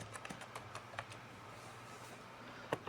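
Light, quick keystrokes tapped on a computer keyboard, a short irregular burst of clicks followed by a pause and one final stroke, close by and quiet.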